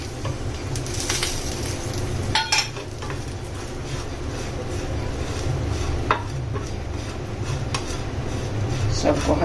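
Chilies, cumin, garlic and coconut roasting in a pan for a South Indian chutney give a continuous close sizzle, with several sharp utensil scrapes and clinks against the pan, no voices.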